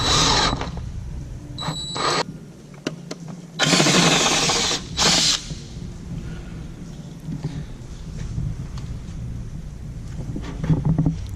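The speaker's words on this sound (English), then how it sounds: "you're drilling that hole because you have to run something into there?" A power drill bores a hole to run wiring, with a few short, loud whirring bursts of a second or less rising over a steady background hum.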